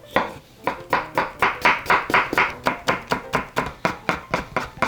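A knife chops onion and carrot into thin strips for beef japchae on a cutting board: a steady run of about seventeen crisp, close strokes, loud and alone.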